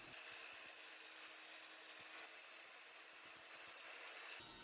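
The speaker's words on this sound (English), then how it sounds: "After that, I'm rounding all the corners and chamfering the edges." A tool works a copper drawer pull, rounding its corners and chamfering the edges. The hiss of abrasion is steady and unbroken, with faint ticking scrapes beneath it.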